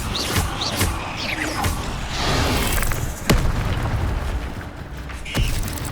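Incendio fire spell cast in the Hogwarts Legacy video game, a burst of whooshing flame with sharp booming pops over dense, busy combat effects, loud and close throughout.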